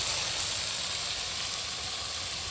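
Small puti fish sizzle and fry in a well-heated wok outdoors, a dense steady hiss of hot oil running continuously and fairly loud throughout, with no talking.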